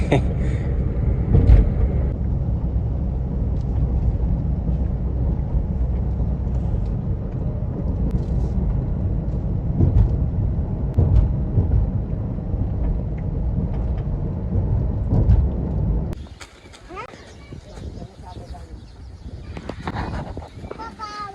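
Strong wind buffets loudly and continuously with deep rumbling gusts, then drops to a lighter rush near the end, with a voice talking briefly.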